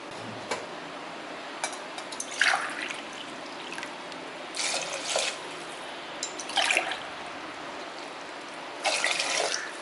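Water is poured into rice in a kitchen for sambar rice, arriving in four or five short, splashy bursts separated by quiet pauses.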